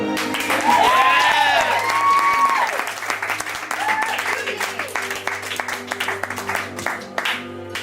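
Audience applause at a film pitch presentation, a loud dense burst of clapping with a few whoops early on that gradually thins and tapers off, with no talk over it.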